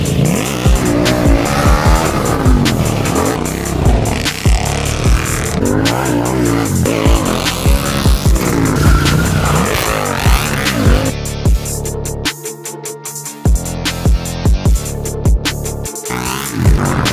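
A car drifts in a warm-up session, with loud, continuous tire squeal and skidding over a revving, wavering engine. The wheel screech rises and falls in long sweeps, briefly thins out near the end, then returns.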